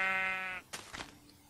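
A sheep in Minecraft bleats once, clear and close, a sustained tonal cry of about half a second followed by a few soft thuds of movement.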